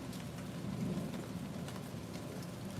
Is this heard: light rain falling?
yes